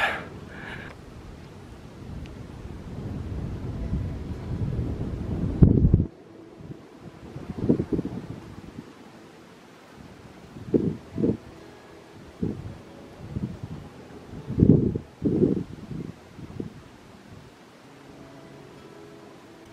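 Wind buffets a microphone on the summit of Roys Peak near Wanaka, a loud rumbling roar at first, then gusty bursts coming and going between quieter lulls.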